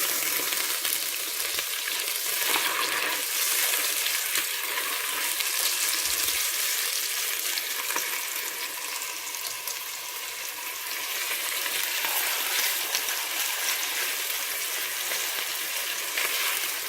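Chicken escalopes fry in browning butter in a pan, a loud, even sizzle close by that keeps on steadily with small crackles, and no one speaks.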